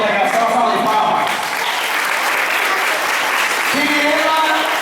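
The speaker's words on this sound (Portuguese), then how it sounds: "Uma salvação à Rádio Integração, uma salva de palmas." A crowd at a poetry tribute in Bom Jardim, Pernambuco, breaks into loud, continuous applause for Rádio Integração FM, with a voice starting to speak over the clapping near the end.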